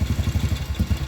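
A rebuilt BMW R51 motorcycle engine being run in, close by, putters in a rapid, even rhythm with a slight rise as the throttle is blipped.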